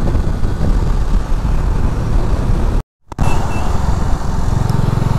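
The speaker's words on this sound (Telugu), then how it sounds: "ఈ వెహికల్ వచ్చేసి ఇసుజు" An Isuzu vehicle built up like a camper van drives by on the road, heard as a loud, steady wash of engine and road noise close to the microphone, with a brief dropout midway.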